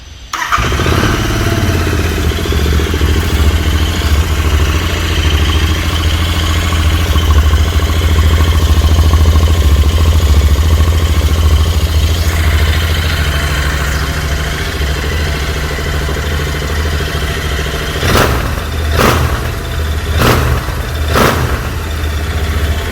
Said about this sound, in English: the exhaust has got an additional benefit of a lovely exhaust note and some performance